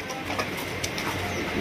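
Raj Gola pigeons, a large coloured pair, coo softly in a loft among other birds, with a few low throaty coos over a constant background hum and rustle.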